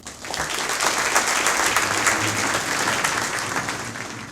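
A crowd applauds the Iowa State Athletics Hall of Fame class at the induction celebration. Loud, dense clapping from many people swells in quickly, holds strong and eases off slightly at the end.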